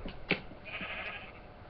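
A single faint sheep bleat from a video game, brief and somewhat muffled, alone without talking.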